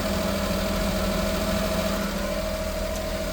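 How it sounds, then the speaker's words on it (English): A Suzuki dump truck engine idles steadily with a low, constant rumble and a persistent mid-pitched hum, loud and close, with no talking. "Listen to the motor"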